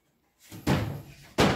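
A drawer being opened in a house, heard as two loud, close wooden thumps a short moment apart after a brief silence.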